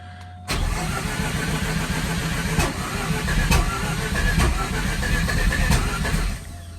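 A turbocharged bridgeported Mazda Renesis rotary engine needing new plugs trying to start: a sudden onset of rough, uneven cranking and sputtering, close and loud, with sharp pops, then it cuts off.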